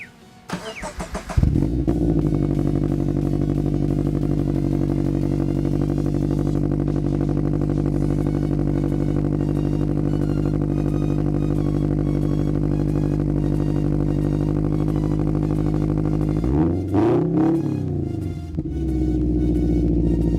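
A Scion FR-S fitted with 1320 headers starts up with a brief cranking clatter, then settles into a loud, steady, deep idle drone, with a short rev and blip near the end.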